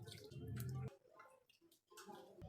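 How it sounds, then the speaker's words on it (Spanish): Water pours over sugar in a small pot for a basic cake, a close, full splashing rush that stops abruptly after about a second and is followed by faint, quiet trickles. "Agregamos en la olla el azúcar y cubrimos con el agua,"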